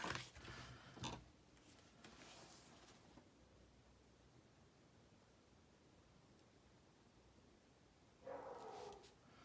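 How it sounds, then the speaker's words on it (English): A neighbouring dog barks in a few short bursts at a distance, faint in an otherwise quiet indoor room, with another brief burst near the end. "My neighbor's dog is barking."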